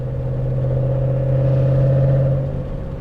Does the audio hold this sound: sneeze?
no